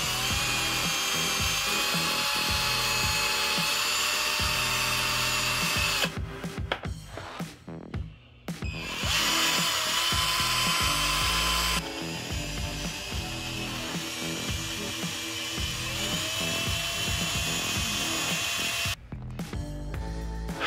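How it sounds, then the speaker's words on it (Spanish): Power drill boring into the plastic shell of a Hasbro Neutrona Wand, a loud whining motor with rattling bit chatter that cuts out and restarts several times in bursts. "el truco es sientes que la broca se queda atrapada, le da reversa al taladro."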